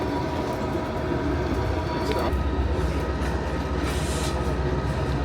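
A Kuranda Scenic Railway train climbs a steep grade around Horseshoe Bend through tropical rainforest, its steady rumble and rolling wheel noise filling the scene continuously, close and loud, with no voices.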